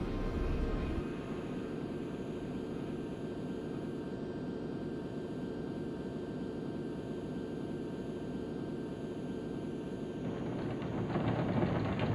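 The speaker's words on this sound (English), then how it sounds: "At 12:05, the 747-200 lifts off at JFK" A steady, roaring jet engine drone with a high whine holds throughout, swelling slightly near the end as a Roblox Boeing 747-200 powers down the runway and lifts off at JFK.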